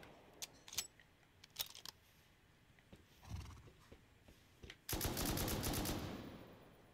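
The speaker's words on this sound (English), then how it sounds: "Don't know where I'm getting shot at from." Gunfire during an online raid in Rust Console Edition: scattered sharp cracks and thumps, some faint and distant, then a loud sustained burst of rapid shots near the end over a quiet background.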